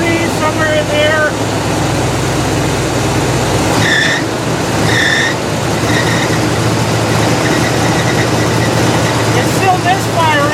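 A Buick engine idles steadily in mild 60 to 70 degree weather while misfiring, with a loose belt letting out short squeals; the idle is continuous and fairly loud, and no one speaks over it.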